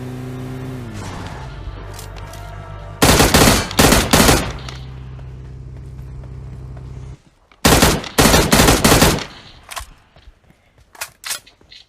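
Two long bursts of rapid automatic M16 gunfire from a video game, followed by scattered single shots, loud and close.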